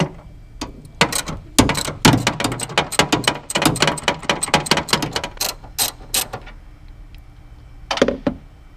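A hand ratchet clicks in quick bursts while loosening bolts on a work truck, the sharp ticking runs starting and stopping up close, with a short pause before a final flurry.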